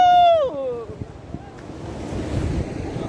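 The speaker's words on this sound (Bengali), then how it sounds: "কি সাউন্ড, সমুদ্রের যে সাউন্ডটা, এই সাউন্ডটা শুনতে ভীষণ ভালো লাগছে" Ocean surf breaking at Cox's Bazar beach, a steady broadband wash of waves mixed with wind buffeting the microphone, opening with a brief falling voice-like tone before the surf noise takes over.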